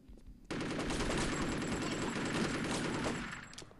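A powerful gun in the PC game Chaser fires a sustained burst of rapid automatic shots, loud and dense for about two and a half seconds before cutting off.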